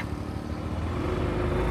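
A motorbike engine runs near and steady, a continuous low rumbling idle that holds throughout with no talk over it.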